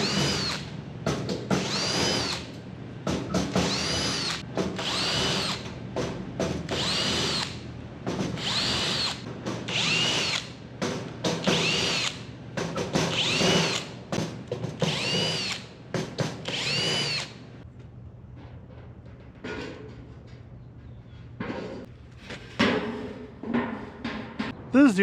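Power drill backing out hundreds of screws from a mini camper's sheet metal shell, repeated whirring bursts in a steady rhythm, close and loud, then sparser shorter runs with quieter gaps toward the end.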